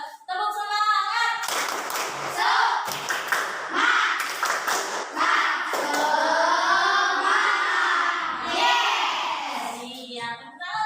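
Classroom of students joining in a rhythmic 'tepuk semangat' clapping chant, patterned hand claps mixed with loud group chanting voices close by.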